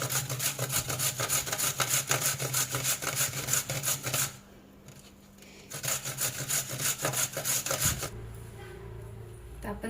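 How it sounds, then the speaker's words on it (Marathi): Carrots for carrot halwa are rubbed against a hand grater in quick, rhythmic scraping strokes up close, with a brief pause in the middle before the steady grating resumes. "आता आपण पहिल्यांदा गाजर किसून घेऊ चांगले।"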